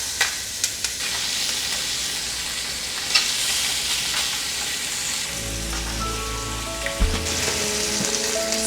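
Chicken laid skin down in a hot pan gives a loud, steady crackling sizzle with scattered pops, joined later by a low rumbling hum, close and without talk.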